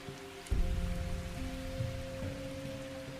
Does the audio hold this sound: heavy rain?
yes